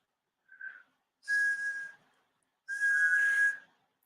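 A person whistles three clear notes: a short soft one, then two longer steady tones separated by brief pauses, with breathy hiss behind them.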